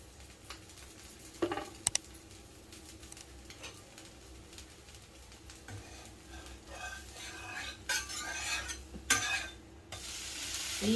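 Jowar dosa cooks in oil on a pan with a faint, steady sizzle, while occasional scrapes and clicks of a utensil grow busier toward the end.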